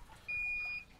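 A digital meat thermometer, the CyberCube, gives a single steady high-pitched electronic beep lasting about half a second at moderate loudness, with no talking.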